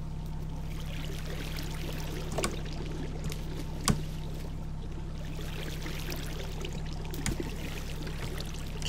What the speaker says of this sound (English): And now the secret waterfall, if I remember correctly.